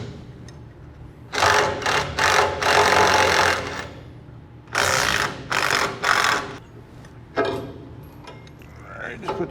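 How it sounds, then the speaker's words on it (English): A 3/4 inch impact wrench hammering on rusted gas tank nuts of an old buggy, several loud close bursts of rapid rattling separated by short pauses. "they won't budge with an even 3/4 inch impact wrench"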